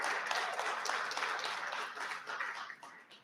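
Audience applause at a premiere party in a garage full of classic cars, a steady wash of many hands clapping that holds for several seconds and then begins to thin and fade at the end.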